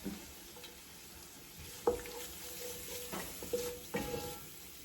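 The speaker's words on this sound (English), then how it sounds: "So our garlic has been cooking for about 1 minute" Garlic cooking in a pan for a turkey bolognese, a soft steady sizzle with a few sharp clacks and scrapes of stirring spaced across the stretch, no voices.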